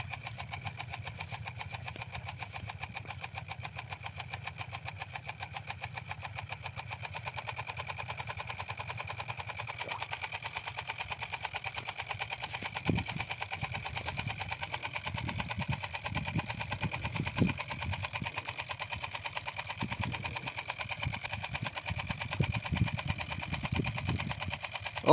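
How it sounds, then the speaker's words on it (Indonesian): Small rice-field tractor engine running a river water pump chugs steadily close by, then the throttle opens and it grows rougher and louder with rapid uneven firing. "Sekarang kita gas mesinnya bosku, supaya airnya cepat keluar bosku."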